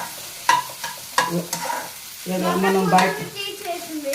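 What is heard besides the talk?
eggs frying in a pan for egg fried rice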